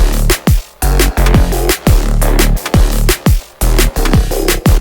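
Drum and bass synth bass line reshaped through Kilohearts Filter Table and Shaper Table, a loud, gritty, filtered riff of pulsing low notes under punchy drum hits in a fast repeating groove, without speech.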